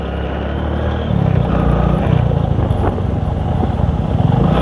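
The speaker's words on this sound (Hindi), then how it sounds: "दिल पर पत्थर रखकर यहाँ पर बाइक चलाना पड़ता है।" Motorcycle engine running steadily and close up while riding slowly over a rough, difficult road near the Pakistan border, a loud continuous low rumble with bumpy fluctuations throughout.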